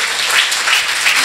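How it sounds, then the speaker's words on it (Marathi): A congregation claps loudly at a Marathi prayer meeting in a prayer house in Naigaon, with continuous, fairly loud clapping and small surges in intensity. "जोरात टाळ्या वाजवा आणि प्रभूचे आभार माना."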